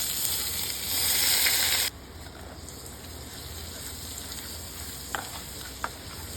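Hot mustard oil meets a mix of ground spices, ginger-garlic paste and salt for tandoori chicken, giving a loud, bright sizzle for about two seconds before it cuts off to a quiet room with a couple of faint clicks.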